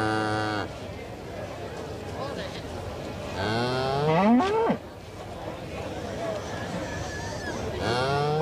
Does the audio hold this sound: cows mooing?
yes